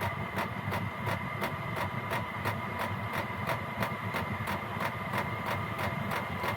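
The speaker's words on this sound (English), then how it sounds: "And you'll hear the pump start speeding up." A Chinese diesel heater's fuel pump running at its highest output setting, a steady rapid ticking of regular clicks over a constant low combustion hum and fan drone, loud and close with no talk.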